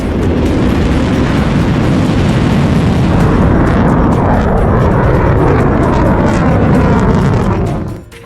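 Heavy bombing in the Gulf, a loud continuous rumbling roar of blasts and booming that holds steady for several seconds, then drops off sharply at the end.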